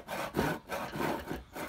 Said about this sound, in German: das ist eine Zugsäge, die sägt beim Ziehen